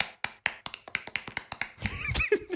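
Sparse, thin AI-generated applause in a synthetic speech sample: about a dozen separate sharp claps in an uneven rhythm, followed by a brief voice-like sound at the end.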